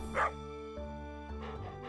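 A dog barks in the farming game Stardew Valley, one short yip near the start over a steady sustained musical background, with no talking.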